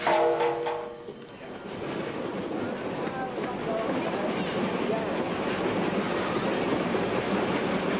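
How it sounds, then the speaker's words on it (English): A narrow gauge steam train, Puffing Billy, rumbles steadily along the rails with a continuous rolling roar, close and fairly loud, after a few brief tonal notes at the start. "Puffing Billy, is a living revival of an actual narrow gauge railway"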